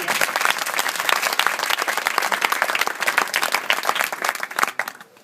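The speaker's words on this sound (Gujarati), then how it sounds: "બધા યુવકો માટે પણ આપણે બધા એકદમ જોરદાર તાળી મારી દઈએ." Enthusiastic crowd applause at a village gathering honouring the youth volunteers who handled the decorations and lighting, steady dense clapping that fades out near the end.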